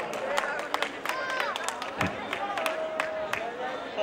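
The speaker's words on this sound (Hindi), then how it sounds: "एक बार जोरदार तालियों से स्वागत कीजिए" An audience claps to welcome people onto a stage at an event, scattered sharp hand claps over a murmuring crowd, with voices audible throughout.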